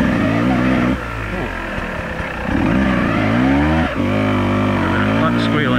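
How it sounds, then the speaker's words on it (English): Beta 200RR dirt bike engine revving hard on a steep hill, with a loud, continuous motor tone that climbs and dips across the clip and a high squeal from the slipping clutch. "Clutch squealing first."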